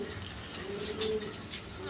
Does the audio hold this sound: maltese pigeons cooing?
yes